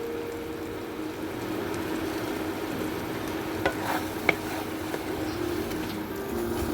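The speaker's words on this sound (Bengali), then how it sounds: "ওই ধনেপাতাটা দিয়ে একটু ভালো করে মিশিয়ে নেবো।" Fish egg curry being stirred with fresh coriander leaves in a pan, a steady low sizzle running throughout with a couple of faint utensil clicks, no voices.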